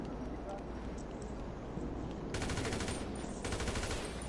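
Rapid bursts of gunfire in the Cartel vs Mafia video game, starting midway through and continuing loud and sustained, mixed with voices and background game sound.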